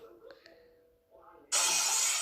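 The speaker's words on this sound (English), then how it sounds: "I heard the sound of glass shattering from a few rooms over." A glass window shatters a few rooms away in a house, bursting in loud and abruptly after a quieter stretch of faint clinks and a brief voice, then holding as a sustained bright crash and spray of breaking glass.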